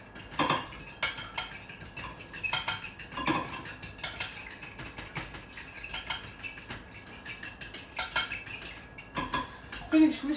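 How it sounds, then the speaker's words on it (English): Eggs whisked briskly in a bowl: a steady run of quick metallic clinks and scrapes as the whisk strikes the bowl, close and fairly loud, with no talking. "now finish whisking the egg"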